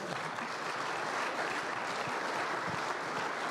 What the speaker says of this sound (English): That's where you should applaud right now.